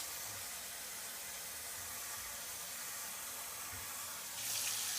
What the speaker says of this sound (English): we're going to go ahead and add just a little bit more water to that crock pot